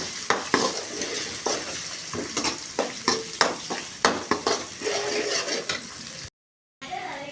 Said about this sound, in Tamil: இந்த மாதிரி முட்டையை பொத்து வச்சு இதில் ஊற்றிக்கணும் ஊற்றிட்டு நல்லா கிண்டிக்கணும்